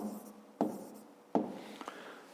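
Pen writing out a maths exercise by hand, two distinct tapping strokes followed by lighter scratches, faint and close with a quiet background.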